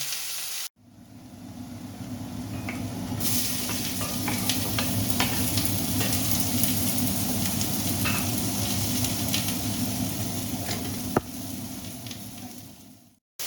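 Onions frying in melted butter in a pot, a steady close sizzle with crackling pops and occasional stirring scrapes, continuous for most of the clip with no talk.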